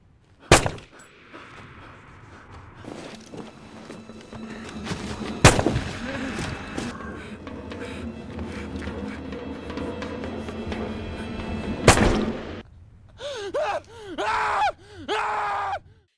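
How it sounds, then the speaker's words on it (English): Several sharp gunshots fired with shaking hands at a seal crack out at wide intervals, loud and close, between stretches of rumbling noise; strained, wavering cries follow near the end. "He pulls out his weapon with shaking hands and fires several shots."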